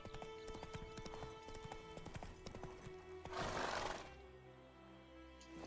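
Rhythmic clip-clop of horse hooves at a steady trot in The Witcher 3, with a brief whoosh of noise partway through, no talking.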